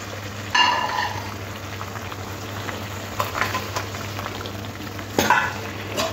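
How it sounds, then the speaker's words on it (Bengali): Water comes to a boil in a pan with ground spices, before tangra fish are added for a potato and fish curry, a steady close bubbling and sizzling with a few louder splashing stirs. "জলটা ফুটে উঠেছে, মাছগুলো এবার দিয়ে দেব।"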